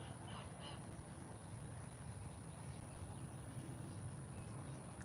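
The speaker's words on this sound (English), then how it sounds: "That has to be a duck." A duck calling near water: a couple of faint, distant honking quacks early on over a steady outdoor background hiss.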